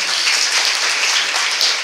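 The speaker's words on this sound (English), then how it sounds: "give yourselves a big round of applause" Audience applause fills the room in a dense, continuous patter of many hands clapping, steady and fairly loud for its whole short span.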